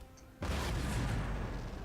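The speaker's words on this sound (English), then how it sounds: "Cannons are going well." Artillery in a Napoleonic-era battle video game booms once, loud and sudden, followed by a rolling rumble that fades slowly.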